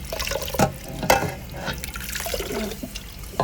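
Water is poured into pounded chili paste for a Thai nam prik, with close splashing and trickling plus a few sharper liquid knocks, and no speech.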